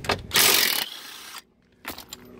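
Ratchet working a 15 mm bolt loose from a 1996 Lincoln Town Car dash near the steering column, giving a loud burst of mechanical clicking and grinding, a pause, then a shorter final click, with no talking.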